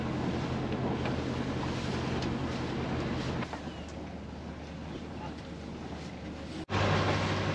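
Steady wind from storm Benjamin roars and buffets the microphone over a low engine-like hum and water noise, with a sudden gust near the end.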